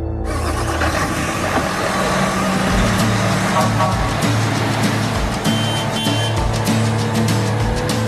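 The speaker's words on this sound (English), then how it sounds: "this semi-tractor trailer truck." A heavy Mercedes semi-trailer truck drives past with a loud, steady, rumbling diesel engine and constant road noise throughout.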